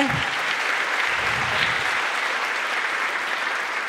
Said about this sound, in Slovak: veľký potlesk pre naše šikovné deťúrence,